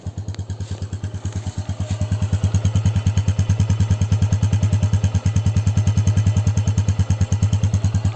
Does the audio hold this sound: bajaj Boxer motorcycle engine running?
yes